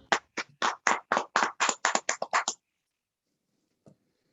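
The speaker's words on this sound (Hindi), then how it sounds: "हम तालियों से भाई पीटर को दावत देते हैं कि वो आज का कलाम हम तक लेके आए" A church congregation applauds to welcome the preacher, Brother Peter: about a dozen steady, evenly spaced claps for roughly two and a half seconds, then silence with one faint knock near the end.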